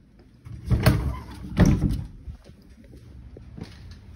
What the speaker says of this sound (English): Double door closets with shelf.